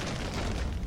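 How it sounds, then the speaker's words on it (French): A short, dull boom of a small explosion effect from the Mansions of Madness app, heard alone as a single muffled burst. "Une petite explosion vous fait perdre votre concentration."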